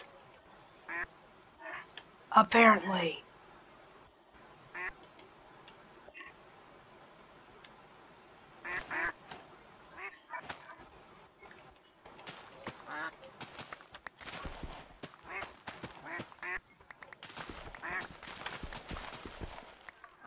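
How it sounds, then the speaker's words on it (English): Ducks in the video game Minecraft quack in short bursts, with one loud honking call near the start and scattered clicking game sounds afterward, while a voice talks softly. "And there's ducks."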